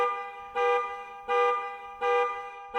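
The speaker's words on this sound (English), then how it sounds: "Loud blaring of a car alarm as Nazar dropped the rest of the bags" Car alarm blaring in a video game, a loud electronic tone pulsing in steady repeated bursts about every three-quarters of a second, close and alone.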